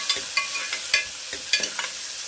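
Finely chopped onion frying in a hot pan: a constant sizzle punctuated by about six sharp spatula scrapes and clicks at irregular intervals, close by, with no talking.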